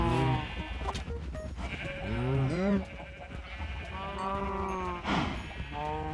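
Minecraft Bedrock Edition cow lowing in the game, with several drawn-out, wavering bleat-like calls spread through the moment alongside a speaking voice.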